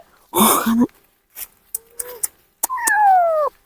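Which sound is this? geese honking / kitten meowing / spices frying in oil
kitten meowing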